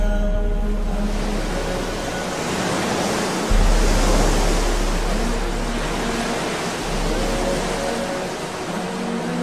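Ocean waves roll and wash in a broad, steady roar, loud and close, with a swell surging partway through and no voices.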